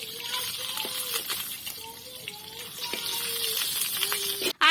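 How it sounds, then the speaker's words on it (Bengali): Fried snakehead fish is lifted out of hot oil to a continuous hiss of frying, with soft scraping and light clinks. A sharp clatter comes at the end. "আর আমাদের মাছ ভাজা সব হয়ে গেছে, এবার আমরা মাছগুলোকে তুলে নিচ্ছি।"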